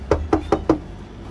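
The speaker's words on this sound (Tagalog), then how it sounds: "Katok na tayo." Four firm knocks on a door in an even, quick rhythm, close and distinct, with a brief quiet tail afterward and no talking.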